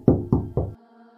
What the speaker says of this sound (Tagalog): pero tumindi pa ang katok